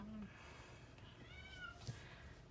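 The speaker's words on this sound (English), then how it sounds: "my cat is meowing in the background there" A cat meows a couple of times in the background, faint short calls within a quiet room, with no speech.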